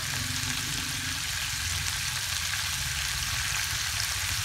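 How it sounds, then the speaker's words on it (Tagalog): Onions sizzling and frying in a pan as they caramelize, a steady dense crackle running the whole time with a low rumbling hum beneath, no talking. "Kaya natin na magiging caramelize yung sibuyas."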